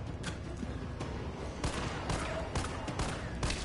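Rapid gunfire fills the Resident Evil 3 game, with dense bursts of repeated shots and booming reports over a constant loud action backdrop. No one speaks.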